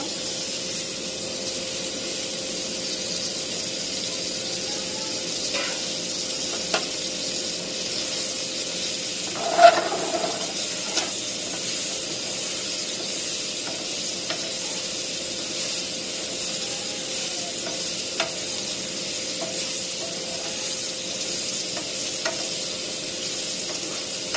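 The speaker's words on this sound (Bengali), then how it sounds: "এখন করলা আর আলু একসাথে দিয়ে দিলাম, ভাজি দেব।" Bitter gourd and potato frying together in a pan make a soft, steady sizzle throughout, with a few brief clinks of utensils and one louder knock near the middle; no voices.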